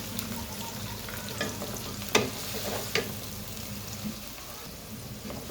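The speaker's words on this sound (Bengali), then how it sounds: "নেড়ে চেড়ে দিচ্ছি পেঁয়াজ, কারণ এটাকে লাল করা যাবে না বেশি" Onions fry quietly in a pan while being stirred, a soft ongoing sizzle broken by a couple of sharper spoon scrapes and taps.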